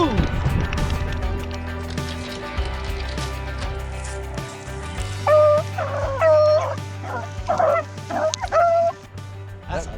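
A dog barks and yips in short, excited bursts mixed with whimpers, close and loud over a steady low drone, with a brief exclamation from a person nearby.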